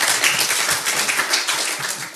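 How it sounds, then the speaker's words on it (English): Audience applauding for Walter Block at a talk: dense, steady clapping from many hands, fairly loud and continuous throughout. "Now, if you want to clap for Walter?"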